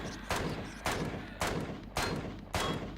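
Five evenly spaced gunshots ring out in Empyrion Galactic Survival, blasting open a trapdoor in an abandoned factory. Each one is a sharp crack followed by a short decaying tail, at roughly half-second intervals.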